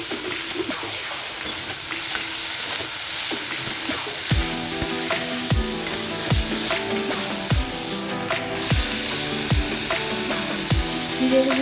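Boiled figs sizzle in a hot pan for a Bengali fig curry (dumurer dalna) with chilli paste, a steady frying hiss joined by repeated scraping stirs with a spatula, close and fairly loud, with no talking.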